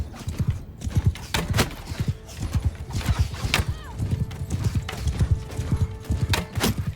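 Horse hooves clip-clopping at a gallop with neighs and whinnies in the medieval combat game Mount & Blade 2: Bannerlord, rhythmic hoofbeats close by, with occasional clanking mechanical sounds mixed in.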